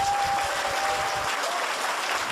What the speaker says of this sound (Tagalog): Kaya palakpakan po natin